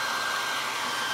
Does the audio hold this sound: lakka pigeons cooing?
no